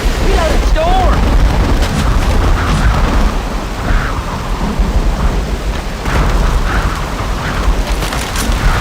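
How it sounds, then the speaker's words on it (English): Rumbling thunder and steady rain from a storm in the zombie shooter Left 4 Dead 2's Hard Rain campaign, loud and continuous with occasional mechanical clanks and game voices shouting over it. "Storm!"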